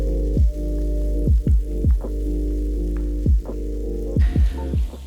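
Tomatoes simmer in a pot of Ethiopian berbere curry, a low steady hum broken by a scattering of soft bubbling pops at uneven intervals, close and without voices.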